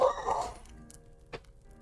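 A single short dog bark at the start, fairly close, then fading into quiet room noise with a faint click.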